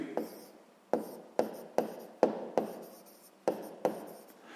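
Pen or pencil writing by hand on paper while working a sixth-grade math exercise, with repeated short scratchy strokes in a steady, uneven rhythm, close and fairly quiet, with no talking.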